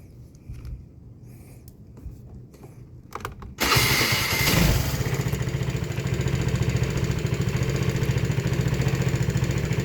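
A 2006 Vespa GT 200L scooter starts up after quiet handling noises, then idles with a steady, close, throbbing engine putter that continues to the end.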